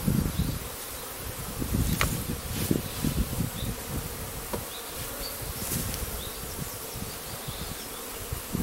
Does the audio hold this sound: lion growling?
no